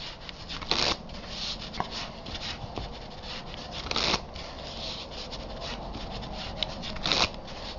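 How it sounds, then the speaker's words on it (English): Papery riffling and rubbing of a deck of playing cards being shuffled, with a few louder bursts as the cards snap together, close by and steady. "there's different house shuffles"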